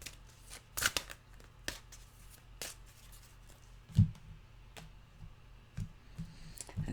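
Animal oracle cards are shuffled by hand in a quiet room, producing scattered soft flicks and sharp little taps at irregular intervals, fairly close and faint.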